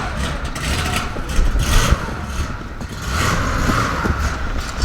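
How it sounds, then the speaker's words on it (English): A Ferrari 599 GTO V12 engine warms up nearby, a loud rumbling idle that swells with a few revs and then settles. "But first we're gonna warm up the GTO and then we're gonna rev battle."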